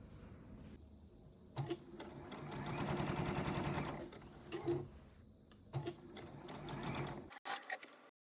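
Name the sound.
sewing machine stitching a seam on an upcycled jeans vest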